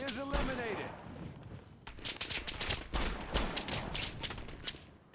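Rapid bursts of rifle and machine-gun fire in Operation Flashpoint: Dragon Rising, sharp repeated cracks spread across the whole stretch, some close and loud, mixed with battlefield noise.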